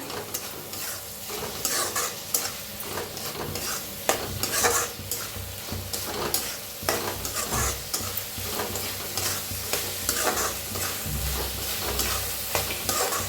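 Red chili powder and salt, with turmeric, roast in a pan under constant stirring: busy scraping and clattering of a spoon over a dense, close sizzle throughout, with no talking.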